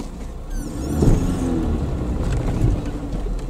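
A car engine rumbles low and steady while the vehicle backs up along a dirt track by a pond, with a slight swell in revs near the start and again later.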